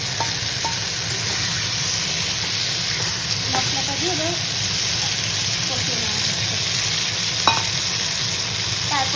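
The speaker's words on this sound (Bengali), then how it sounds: "এবার একটুখানি সবজিগুলো মশলা দিয়ে কষিয়ে নেওয়া হবে" Vegetables fry in a pan with a ground paste of cumin, chilli and ginger, giving a continuous close sizzle broken by scraping stirs, with a faint voice now and then.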